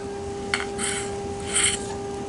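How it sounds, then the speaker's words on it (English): A .25 caliber Benjamin Marauder air rifle's barrel shroud is unscrewed and slid off, giving a few short, close metallic rasps and scrapes over a steady low hum. "you can just unscrew the entire barrel shroud, slide it off"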